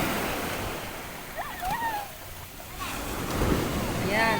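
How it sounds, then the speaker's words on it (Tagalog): Large sea waves break on a beach in Bicol, a steady close wash of surf under wind noise, with a few brief voices calling out over the water. "Maalon dito eh. Malalaking alon."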